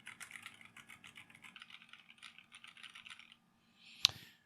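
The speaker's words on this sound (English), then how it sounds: "I'm going to do a keyboard test again just right now" Rapid clicking of keys on a computer keyboard, steady and fairly quiet, stopping briefly before a single sharper clack at the end.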